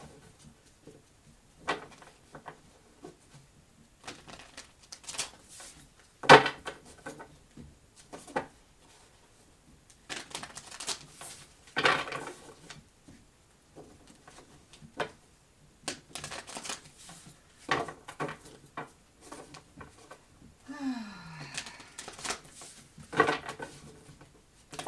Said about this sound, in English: Give it a few good shuffles.